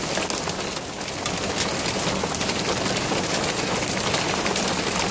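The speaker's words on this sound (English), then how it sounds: "I think it's all rain." Steady rain falling hard on outdoor surfaces, a dense, even hiss of drops that holds constant throughout, with no voices.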